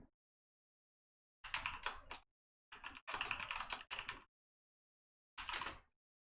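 Keys clatter on a computer keyboard that has a fault making keystrokes register twice, heard as three short bursts of close, crisp typing separated by silent pauses.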